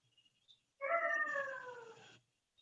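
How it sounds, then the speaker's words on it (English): A single drawn-out canine howl or whine rises up from near silence, holding for over a second before it cuts off. It sounds fairly faint and distant, heard on a meeting call. "I heard a dog."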